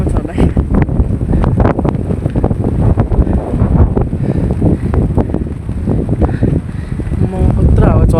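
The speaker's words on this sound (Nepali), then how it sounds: "म कत्रो हावा चलेको" Strong wind gusting outdoors during a village walk, roaring and buffeting the microphone as a constant low rumble, with a voice talking over it throughout.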